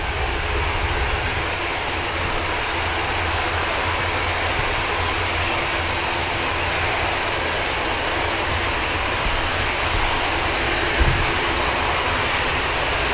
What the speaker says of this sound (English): Transat just touching down at the back of shot.